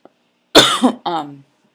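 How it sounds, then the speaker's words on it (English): Two quick coughs, close and fairly loud, the second slightly shorter, with silence on either side. "I do want to apologize for my voice and for all of the coughing"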